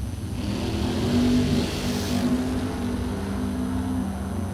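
A Corvette launches down a drag strip, its engine a loud, sustained drone with a steady tonal whine that carries through the whole moment, with no talk.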